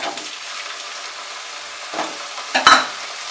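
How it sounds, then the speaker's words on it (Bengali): Mixed vegetables such as papaya, carrot, potato and beans fry in oil in a pan over a medium flame, giving a steady soft sizzle broken by a few louder stirring scrapes near the end. "এই সবজিগুলো কিন্তু আমি ফ্লেমটাকে মাঝারি ফ্লেমে রেখেই ভাজছি।"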